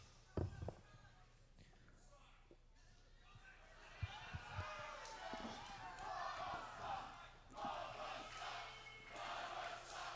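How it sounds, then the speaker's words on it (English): Wrestling crowd at an IWC independent show jeering the wrestler Bubba the Bulldog, a broad roar of boos and shouts that swells and stays loud through most of the stretch, with a few sharp thuds early on. "Crowd letting Bubba know what they think of them"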